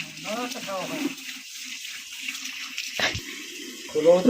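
Water runs from a tap at a bathing spot in a village in hot weather, a steady low splashing stream heard under nearby talking voices, with a few clanks near the end.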